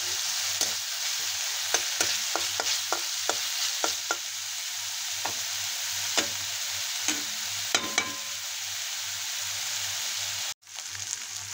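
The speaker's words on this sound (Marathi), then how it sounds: "हे जोपर्यंत तूप सुटत नाही तोपर्यंत याला भाजून घ्यायचं" A paste roasts in ghee in a pan, a close steady sizzle broken by sharp spatula taps and scrapes, ending with a brief sudden break before the frying resumes.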